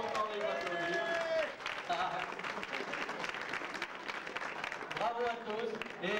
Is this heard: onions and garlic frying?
no